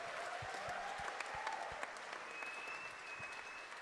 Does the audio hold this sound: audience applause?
yes